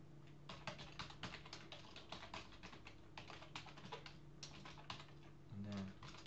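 Typing on a computer keyboard while entering an email address into a payment form: a quick, irregular run of close, crisp keystroke clicks, fairly quiet, with a faint low hum underneath.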